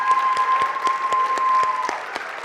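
An audience at a junior creative writing reading applauds the writers, steady clapping from a modest crowd with distinct individual claps, a faint steady tone beneath, tapering slightly toward the end.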